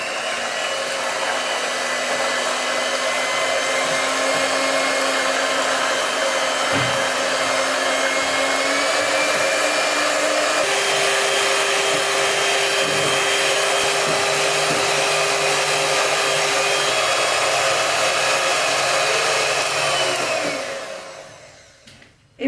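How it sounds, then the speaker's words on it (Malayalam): Electric hand beater whirring steadily through vanilla cupcake batter, a loud continuous motor whine with shifting pitch as the beaters work the mix, running alone for about twenty seconds before switching off. "ഇനി നമുക്കിത് നന്നായിട്ട് തന്നെ ഒന്ന് ബീറ്റ് ചെയ്തെടുക്കാം"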